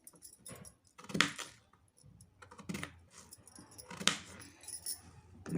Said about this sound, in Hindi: तो सभी आलूओं को काट लेती हूँ।